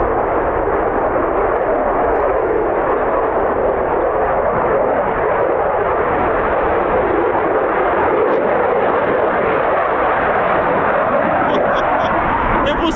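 An F-35B stealth fighter jet passing nearby at an RAF air station, a loud, sustained broadband roar that holds steady and unbroken throughout, with no voices.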